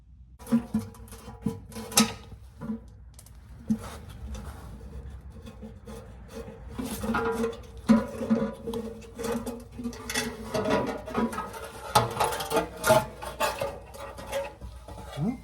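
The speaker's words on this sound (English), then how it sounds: "So I'm just going to pop off these bolts around the edges of that thing" Wrenches scrape and rattle against metal while bolts come off the transmission dust shield of a C3 Corvette, in irregular close bursts of rubbing, clinking and ratcheting over roughly fifteen seconds.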